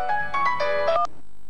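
Phone ringing in a Hindi TV drama scene, a short bright electronic ringtone melody of several quick notes, loud and close, ending abruptly.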